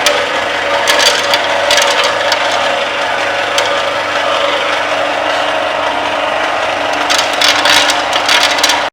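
A motorized coconut oil extraction machine fed with coconut slices grinds continuously, loud and near, with a dense ratcheting, gear-like churn and bursts of sharper crackling near the start and end.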